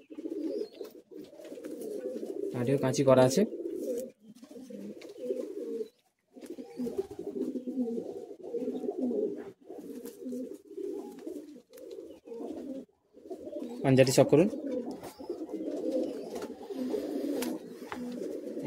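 Madrasi high flying pigeons in a Kolkata loft coo steadily in soft, low rolling phrases, with brief pauses and a couple of louder rustling bursts, while someone talks briefly over them.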